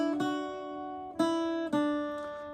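Irish bouzouki picking part of the tune Sí Bheag, Sí Mhór, plucked notes ringing with bright overtones in three clear attacks, close and alone with no talking.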